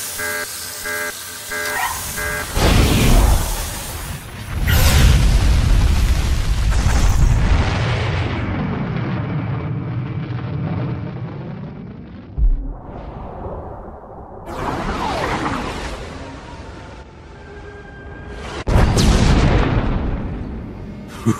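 In Star Wars The Old Republic, a weapon launches with a loud roaring blast, followed by heavy booming explosions and rumbling that rise and fall over about twenty seconds, with music and effects layered throughout.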